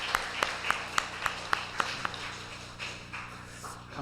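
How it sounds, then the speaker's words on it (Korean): Clapping from a church congregation at an afternoon service, given as encouragement for the teachers and students. Sharp, sparse claps come in a fairly regular rhythm and then fade into a softer, diffuse patter. "한번 격려의 박수 하겠습니다"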